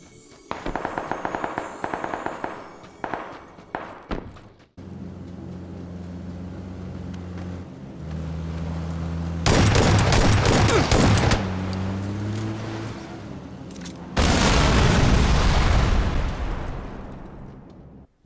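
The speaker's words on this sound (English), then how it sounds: "I haven't found a lot of other games that do distant gunshot sounds as well as PUBG." Distant gunfire echoes across a huge open map in the video game PUBG, heard as sparse rapid pops at first, then long dense bursts of crackling shots that come and go over a low rumble.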